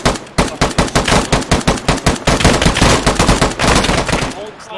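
Loud, rapid machine-gun fire in a combat video game, long sustained bursts of closely spaced shots, close and dominant throughout with a short pause midway.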